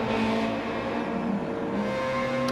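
Race cars in a racing video game, one running in a Mazda's slipstream along a straight, give off a steady, loud engine drone with sustained tones and no talk over it.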